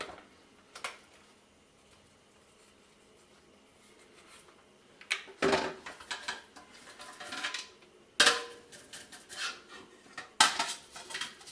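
Home brewing equipment is pulled out and handled for cleaning, with a few faint knocks at first, then loud bursts of clattering metal and plastic close by.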